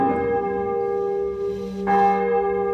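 Church bells ring with sustained, overlapping metallic tones, a new strike swelling near the end, resonant and fairly close, during a Sunday Mass homily.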